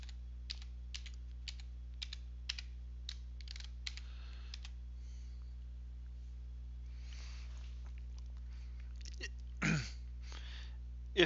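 Password being entered on a computer keyboard: a run of quiet, separate key clicks in uneven rhythm, then a pause and a brief louder sound near the end over a steady low hum.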